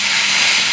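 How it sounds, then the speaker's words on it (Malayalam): Tamarind water hits a hot pan of green chilies, curry leaves, black pepper, cumin and garlic, giving a loud, close, steady sizzling hiss. "പുളിവെള്ളം ഒഴിച്ച് കൊടുക്കാം."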